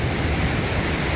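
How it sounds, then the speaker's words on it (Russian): Rushing water of the Bestyzhi waterfall on the wild Psezuapse river near Lazarevskoye, Sochi, a steady dense roar filling the whole moment without a break, fairly loud and close, no voices over it. "водопад Бестыжи."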